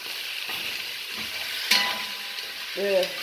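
Flour cooks in a hot pan for a venison stew, giving a soft, steady sizzle with brief stirring scrapes and a sharper crackle midway, close and fairly quiet.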